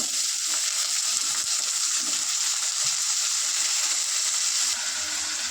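Tomatoes frying in a hot pan after garlic, a loud, steady, dense sizzle with crackling and occasional stirring, continuous and close throughout.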